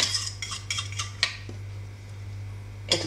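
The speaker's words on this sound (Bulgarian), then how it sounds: "Разбъркваме." A spoon stirs sauce in a pot for stuffed peppers with minced meat and rice, making a few light metallic clinks and scrapes over a low steady hum.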